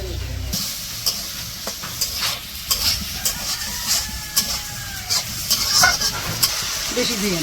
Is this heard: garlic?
yes